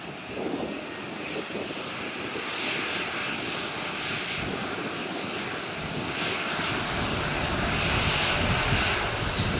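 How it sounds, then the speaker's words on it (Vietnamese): A Vietnam Airlines airliner comes in to land on runway 25R, a steady loud engine roar and rushing wind that holds throughout and swells slightly toward the end, with no talk. "bây giờ chiếc máy bay đang nhanh chóng hạ cánh xuống đường băng 25 phải"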